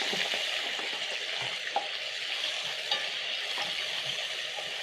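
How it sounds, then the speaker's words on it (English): Potato wedges fry in hot cooking oil, giving a dense, even crackle and sizzle with scattered small pops, close and steady throughout without any talking. "I'm going to carefully drop in my potato wedges into the cooking oil"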